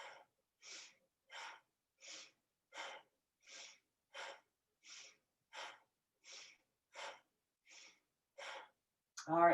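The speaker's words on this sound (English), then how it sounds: "go into your twist and begin the bellows breathing" Bellows breathing during a yoga twist: about thirteen forceful, evenly spaced breaths come in a steady rhythm, close and fairly quiet, with a louder breath at the very end.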